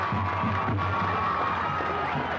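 A big crowd cheers and shouts at a high school football game, a steady roar of voices at moderate distance with a few louder whoops rising out of it.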